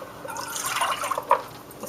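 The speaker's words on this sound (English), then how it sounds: "pour the water out." Water poured out of an essential oil diffuser's reservoir, a short close trickle with dripping splashes and one brighter drip near the end, no talking.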